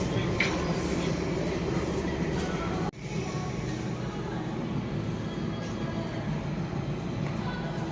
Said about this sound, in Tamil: இதுதாங்க நம்மளோட ட்ரெயின் மதுரை போடி நாயக்கனூர் பேசஞ்சர்